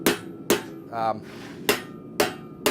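Ball peen hammer striking hot metal at a blacksmith forge, letting the hammer's weight fall: four sharp ringing blows spaced about half a second to a second apart, close, with a brief rough scrape between strikes.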